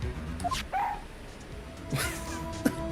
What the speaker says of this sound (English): Look, Nick, cute dog.